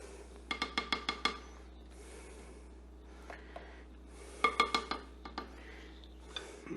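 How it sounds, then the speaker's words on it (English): Utensil scraping around a mixing bowl of cream cheese cake batter with banana, a quick burst of clinking, scraping strokes near the start and another cluster later, close and fairly quiet, with no talk. "you want to scrape your bowl down once in a while"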